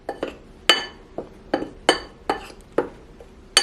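Dry cookie ingredients stirred in a glass bowl with a metal utensil, giving a steady series of about ten sharp, close clinks and scrapes at a brisk, uneven rhythm with no talking.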